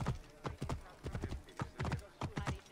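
Horse hooves clip-clopping in a quick, steady rhythm while riding in the video game Assassin's Creed Origins, close and clear, with a voice talking over the hoofbeats.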